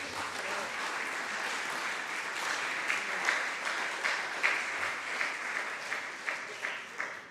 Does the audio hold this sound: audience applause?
yes